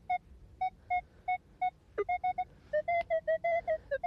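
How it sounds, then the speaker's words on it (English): A metal detector beeps in a quick series of short electronic tones that shift up and down in pitch, with a couple of clanks. "Listen to the tones jump around."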